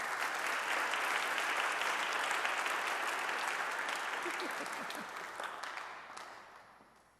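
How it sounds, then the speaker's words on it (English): An audience at a youth incarceration panel program applauds Charlene Moore, bright dense clapping that starts strong and gradually thins and fades toward the end. "Please give a round of applause for Charlene Moore."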